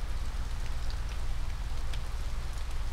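Rain falls steadily in the RPG Maker game To The Moon, a dense, even hiss of drops with a low rumbling base, continuous and enveloping with no speech.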